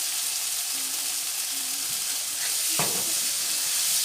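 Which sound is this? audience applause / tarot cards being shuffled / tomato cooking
tomato cooking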